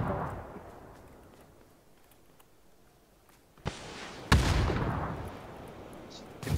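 Grenade blasts and gunfire in PUBG: a fading boom opens, then after a quiet stretch two sudden loud explosions hit in quick succession and leave a rumbling tail, with players talking faintly underneath.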